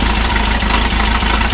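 A car engine idles steadily on a test run while warming up, a continuous low rumble with an even, close, loud tone and no talk over it.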